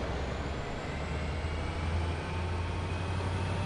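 A train in a locomotive video game rumbles along at speed, a steady low mechanical roar with a faint high whine and no break from start to finish.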